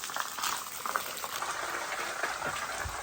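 Water splashes steadily onto a stone Shiva lingam at a temple in the Nallamala forest, a continuous close, bright hiss of falling and spattering water with no voices.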